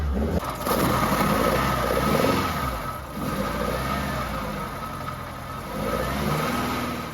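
A Ford Escort Mk2 engine, just restarted after its starter motor was refitted, idles and revs roughly and unevenly, steady and close with no voices.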